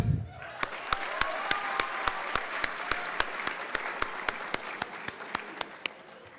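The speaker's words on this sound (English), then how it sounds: "A round of applause for the mayor." Loud, sustained applause from a graduation audience honoring the mayor, with sharp rhythmic claps standing out at a steady beat above the dense crowd clapping throughout.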